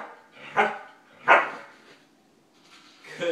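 A dog barks sharply in answer to a math question, two loud, close single barks about a second apart followed by a fainter third bark at the end.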